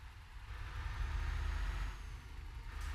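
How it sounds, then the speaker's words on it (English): Steady low rumble of a truck engine while driving in Euro Truck Simulator 2, a continuous deep drone with road noise, heard alone without talk. "Oh, this truck sounds so stinking good."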